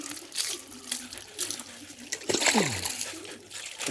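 Water poured and splashing over a dog during an outdoor bath with well water, arriving in repeated uneven gushes and trickles close by, with brief voices in between.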